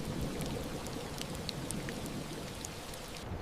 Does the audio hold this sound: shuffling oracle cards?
no